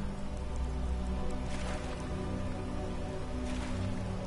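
Steady rain falls in the video game Skyrim as a soft, continuous hiss of drops, even and moderately quiet throughout with no talking.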